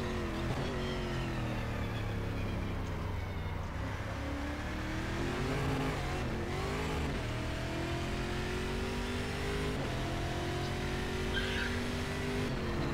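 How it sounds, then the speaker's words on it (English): A race car in the Stock Car 2012 video game brakes late, skids over the curb and gravel and hits a wall: a continuous loud engine drone with shifting revs, tire scrubbing and a rough burst midway, no voices. "as I braked into this corner, I was a bit too late and I got on the curb and crossed the gravel and straight into the wall"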